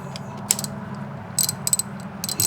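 A socket wrench ratchets in short, close bursts of crisp clicks while spark plugs are changed on a second-generation Honda CR-V, with brief pauses between strokes.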